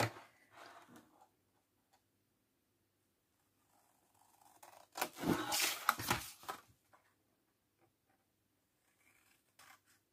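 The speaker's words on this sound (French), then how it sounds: "Donc je coupe les 4 angles." Scissors cutting the four corners of paper for an album make sparse, quiet snips and rustles, with a louder cluster of crisp cuts in the middle amid near silence.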